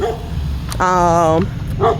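Small dogs barking near a fenced yard outdoors, a short run of close, fairly loud yips and barks over background noise.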